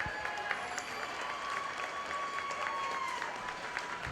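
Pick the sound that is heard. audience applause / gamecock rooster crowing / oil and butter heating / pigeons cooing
audience applause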